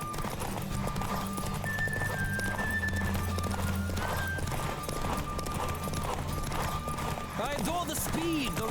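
Horse hooves clip-clop at a steady gallop in The Witcher 3, with a whinny, loud and continuous under game music and a person talking.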